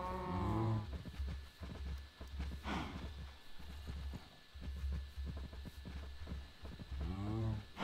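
Cows in the Minecraft video game moo twice, once at the start and again near the end, with a run of soft hoof-like clip-clop steps between them and no talking.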